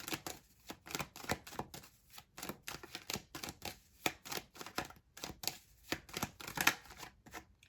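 Tarot cards being shuffled in repeated quick riffles and snaps, close up, with brief pauses between bursts.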